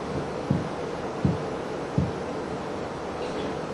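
Slow, muffled heartbeat of a mother heard up close, three soft low thumps spaced about three-quarters of a second apart over a steady hum, with no talking.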